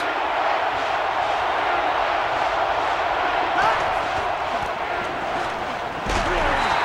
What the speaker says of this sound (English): This crowd a huge factor right now against this offense.